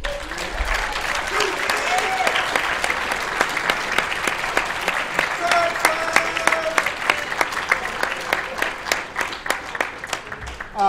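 An audience at a debate awards ceremony applauds, a full round of clapping that thins toward the end into scattered, distinct claps, with some voices mixed in.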